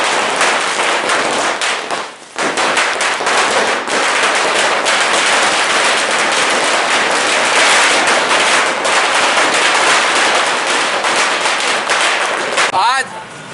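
Dense, continuous crackle of firecrackers and fireworks at an outdoor election-victory celebration by Congress party workers at an MLA's residence, loud and unbroken for the whole stretch with a brief dip partway through.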